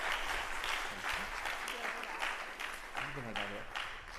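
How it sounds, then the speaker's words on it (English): A Capstone Showcase audience in a performing arts center gives a full round of applause, dense and sustained clapping, with a voice breaking through near the end. "And with that, let's give Tess one more round of applause."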